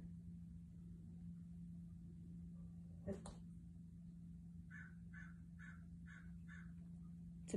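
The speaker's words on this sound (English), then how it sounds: "That's a bird." A crow caws outside in a short series of five or so evenly spaced calls, faint and distant over a steady indoor hum, with a single sharp knock just before.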